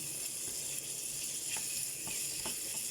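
Chicken sautéed in a pan gives a steady bright sizzle throughout, with a few faint stirring scrapes and clicks underneath, close and continuous, no talking.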